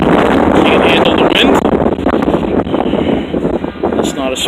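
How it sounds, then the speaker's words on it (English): Strong wind buffets the microphone at an outdoor Long Island Rail Road platform near New Hyde Park, a loud continuous roar with gusty rumbles that stays steady and close throughout, with no one talking. "It's very windy out here, obviously."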